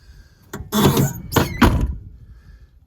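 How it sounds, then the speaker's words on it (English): The driver's side door of a 1998 Chevy half-ton pickup with a 5.3 LS engine is worked with a few heavy thunks and a squeak in quick succession, close and loud. "the driver's side door doesn't want to open"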